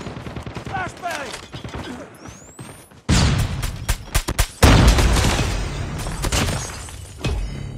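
A flashbang grenade bursts in a Call of Duty Mobile firefight, a sudden loud blast followed by crackling gunfire and sharp impacts, with game voice callouts around it.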